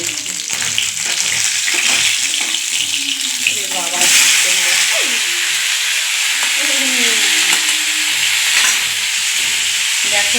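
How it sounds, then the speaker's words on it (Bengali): Fish frying in hot oil in a home kitchen gives off a loud, steady sizzle that holds through the whole stretch, with voices talking faintly over it. "মাছটা কতক্ষণ ভাজা হোক"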